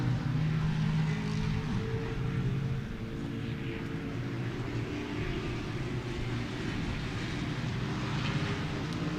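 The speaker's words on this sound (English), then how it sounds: "hear the big cars coming around the back" Race cars roar steadily around the back of the Sebring circuit, a continuous loud engine drone sustained throughout with no gaps.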